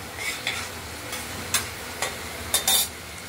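Shrimp frying in oil in a pan, a steady sizzling hiss broken by several brief scraping stirs and clinks of a spatula, close and fairly loud, without any talking.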